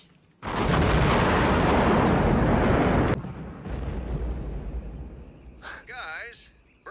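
Cluster charge explosion in the 1996 film Tremors II: Aftershocks, a sudden loud roaring blast lasting a few seconds that cuts off and leaves lower rumbling, followed by a brief voice near the end.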